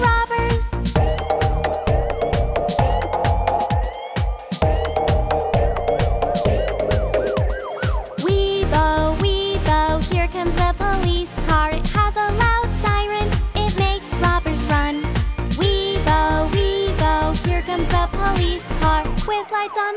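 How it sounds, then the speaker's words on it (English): A police car siren sounds through a children's song, blending with bouncy synthesized music and rhythmic beats that play continuously and loudly throughout. "here comes the police car to our rescue to keep us safe"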